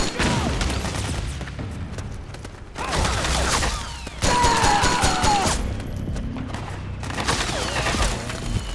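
Heavy gunfire in a Metal Gear Solid 4 battle crackles as dense, continuous volleys of shots and bursts over rumbling battle noise, with soldiers shouting at moments.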